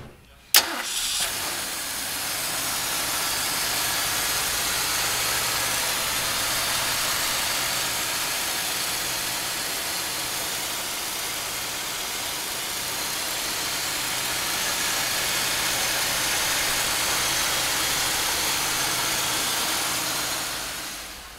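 A 1966 Ford Mustang engine cranks and catches, then settles into a steady, loud, continuous idle that runs for about twenty seconds.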